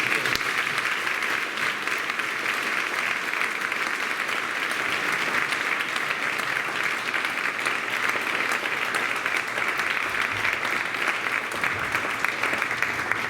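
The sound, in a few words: audience applause for panel members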